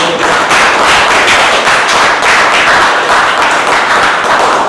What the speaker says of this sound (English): can we have a huge round of applause for all?